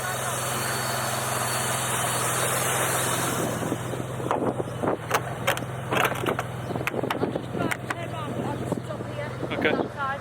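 A Mitsubishi GTO engine, suspected of a boost leak, idles with a steady low hum, then the car pulls away and passes with rising revs and wind buffeting, recorded from outside.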